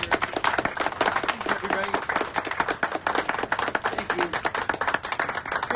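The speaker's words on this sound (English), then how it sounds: "let's give a round of applause for John" An audience at a celebration and fundraiser gives a dense round of clapping for an honoured guest. The applause runs throughout while someone speaks over it.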